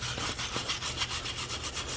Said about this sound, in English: just cleaning up all the brake dust that's built up inside of the caliper here